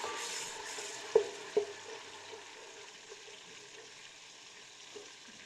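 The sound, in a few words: chopped onions frying in pan for handi kabab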